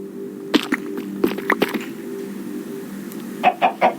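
Chicken clucks from a video game come in two bursts of short, sharp calls, first scattered, then three quick clucks near the end, over a quiet low hum.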